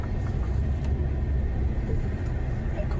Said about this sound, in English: That car coming